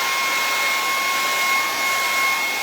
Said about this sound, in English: I'm going to hit that with the hairdryer to make sure